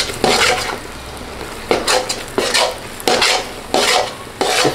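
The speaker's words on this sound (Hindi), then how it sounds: "फिर इसे अच्छी तरह साथ साथ हलाते जाएंगे।" Corn flour halwa being stirred in a pot, a spoon scraping the thick mixture in steady repeated strokes, six loud close passes with short pauses, no voices.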